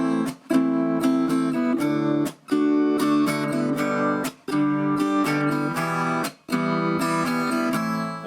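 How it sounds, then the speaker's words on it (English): Strummed acoustic guitar chords in a steady rhythm, each bar broken by a short percussive muted down strum that cuts the ringing chord, playing alone and fairly close. "what you can do is a muted down strum"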